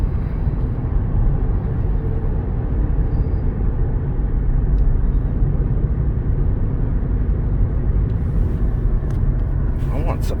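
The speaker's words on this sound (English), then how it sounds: "So, if you full throttle the car, the gas engine comes on." A 2017–2018 Ford Fusion Energi Titanium hybrid with a 2.0-liter Atkinson four-cylinder gas engine pulling at full throttle, heard from inside the cabin as a loud, steady, broadband roar that holds for the whole stretch.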